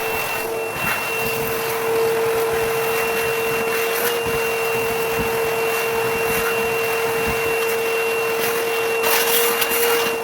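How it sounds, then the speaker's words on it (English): Vacuum cleaner sucking loose debris from the bottom of an oven, a steady close whine running continuously with occasional light rattles of grit in the nozzle. "Pro tip, use a vacuum."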